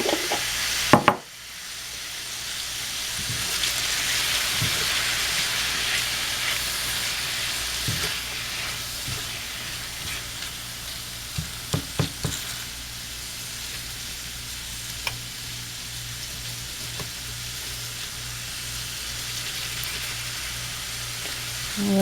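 Chicken pieces and drained jarred mushrooms sizzle steadily in a hot pan, a loud continuous frying hiss with a few sharp pops and crackles scattered through it.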